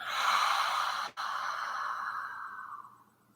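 A long, full exhale during a restorative yoga exercise, close and breathy, with a brief break before the breath trails off softly to silence.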